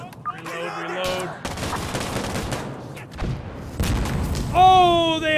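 RPG explosions and gunfire in the video game Insurgency Sandstorm on the Power Plant map, heavy booms and bursts of rifle fire close by, with players talking and game tones over the top.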